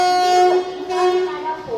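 Tirupati to Kakinada Express 17249, an LHB-coach train at Tenali Junction railway station, sounding a short steady horn blast followed by a second wavering tone, near and loud over station ambience.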